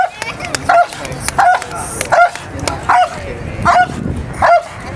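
A police K9 dog barks loudly and close in a regular series of sharp single barks, about six over several seconds, during a police K9 unit demonstration outdoors.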